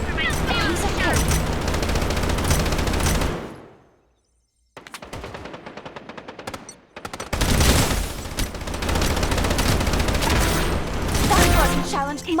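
Rapid automatic gunfire in the shooter game Strinova during a payload escort match, loud sustained bursts broken by a short silence and a quieter stretch, then heavy firing resumes.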